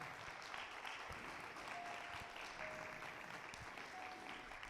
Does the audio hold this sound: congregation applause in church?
yes